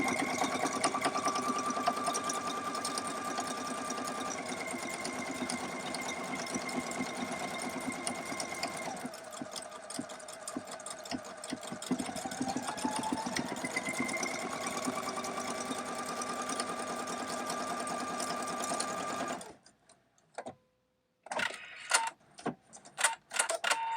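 A PFAFF Performance Icon sewing machine stitches a buttonhole in a steady, fast whirring hum close by, shifting pace partway through, then stops, leaving a few soft handling clicks.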